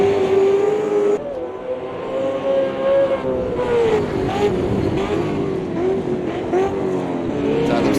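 The Red Bull Racing Commodore V8 race car at the Adelaide 500 accelerates hard, its loud engine note rising and falling through gear changes as it powers along close by.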